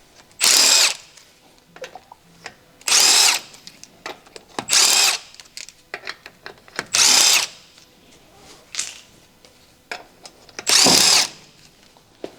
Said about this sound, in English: Use a large 17mm deep socket paired with a large electric impact wrench.